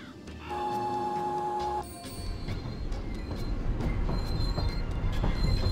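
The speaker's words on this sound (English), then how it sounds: "It's time to ride this train." A train ride in Paper Mario: The Thousand Year Door starts with a tonal chiming signal, then the rumbling clatter of the moving train builds and holds steady, moderately loud.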